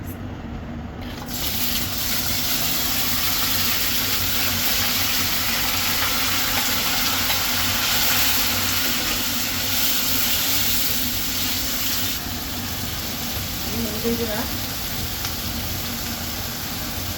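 Onion, ginger and garlic frying in oil with cinnamon, cumin and bay leaf, a loud continuous hiss and sizzle that starts abruptly and stays steady, with faint stirring clinks near the end.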